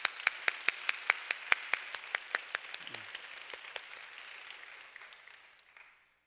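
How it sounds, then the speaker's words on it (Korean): A church youth congregation gives God a round of applause during a worship service, starting with sharp distinct claps that thicken into a dense wash and fade out over several seconds. "다시 한번 뜨겁게 하나님께 영광 박수 올리겠습니다"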